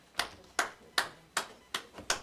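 Six evenly spaced sharp claps from an audience at a township board meeting, sounding slow and deliberate, fairly close and isolated against a quiet room.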